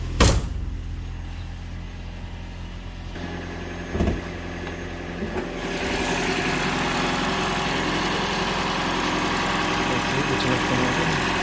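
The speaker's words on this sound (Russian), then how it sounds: "Двигатель работает отлично, без всяких нареканий." A 2018 Toyota Camry 70 hybrid with the 2.5 engine runs at idle, a steady low hum that grows slightly fuller partway through after a few brief knocks and clicks, heard close up with no talk.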